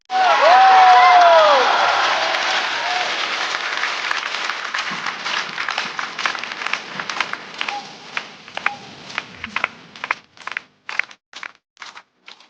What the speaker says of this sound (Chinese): 掌声欢迎菜菜。